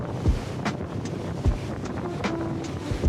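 A passenger boat crossing Lake Atitlan between villages, a constant engine and hull drone under strong wind buffeting, with a few sharp thumps as it slaps the water.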